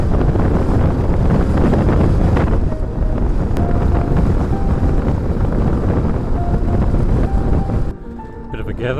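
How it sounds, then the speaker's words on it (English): A strong crosswind batters a microphone while riding a motorcycle across the Outback Australian Nullarbor, loud continuous buffeting roar that drops away briefly near the end, with a voice speaking under the noise. "There's a horrible crosswind as well. Very strong."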